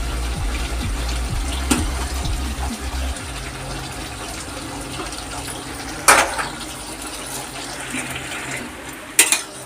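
Water is poured into a pot of simmering chicken curry with desi onions, a loud gushing fill that tapers, followed by bubbling and a few sharp clatters nearby.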